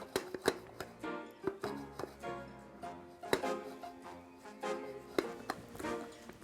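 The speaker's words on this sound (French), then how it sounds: "un hachoir manuel à oignon, et un oignon" A manual onion chopper is worked empty, with no onion inside. It gives a quiet, fairly even series of crisp clacks and taps, some with a brief ringing tail, with nothing else heard.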